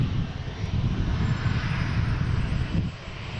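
An airliner takes off from runway 22 at Boston Logan International Airport with a loud, continuous jet roar that stays strong for a few seconds and eases slightly at the end.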